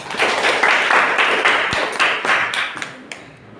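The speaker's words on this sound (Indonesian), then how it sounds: "Tepuk tangan semua." Classroom clapping from students in an Indonesian school lesson, a short burst of many hands clapping together with sharp taps standing out, then fading quickly.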